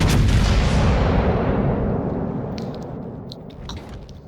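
Heavy naval gunfire from a battleship firing at the Soviet battleship Sovetsky Soyuz in World of Warships, a loud booming salvo whose long rumbling decay fades over several seconds, with faint clicks near the end.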